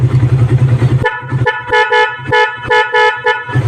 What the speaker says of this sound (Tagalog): Pia horn.